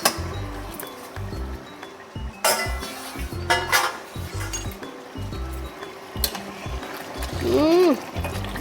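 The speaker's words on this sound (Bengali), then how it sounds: "ঢাকনাটা খুলে নিচ্ছি।" A lid comes off a cooking pot of chicken rezala, giving several close metallic clinks and scrapes, with a short ringing note near the end.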